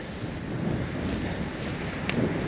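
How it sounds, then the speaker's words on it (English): Steady wind rushes and buffets the microphone on a spur track climbing Mt Lindesay in Queensland, a continuous loud broadband roar with slight surges and no voices. "this wind is picking up"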